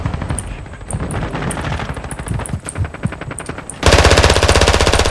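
Rapid automatic gunfire from the video game Call of Duty Modern Warfare 2 multiplayer: stuttering bursts of shots, then a dense, louder sustained volley in the final second, with no talk.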